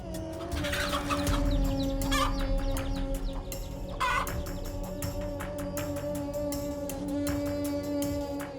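A mother hen with chicks clucks repeatedly and loudly up close, with sharp bursts of clucking over a steady low background hum.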